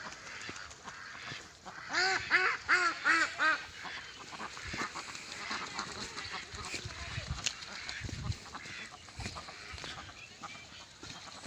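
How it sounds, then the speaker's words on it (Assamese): Broiler ducks on a duck farm in Assam let out a burst of loud, close, rapid quacks early on, then keep up softer scattered calls amid farmyard background noise. "এইবিলাক ব্ৰইলাৰ হাঁহ হয়"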